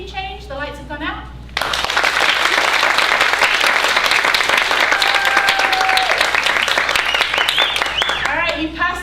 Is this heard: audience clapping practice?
yes